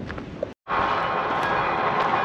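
A small mountain train at Mürren rumbles along in a steady mechanical roar, close and continuous apart from a brief silent gap near the start, with no talking.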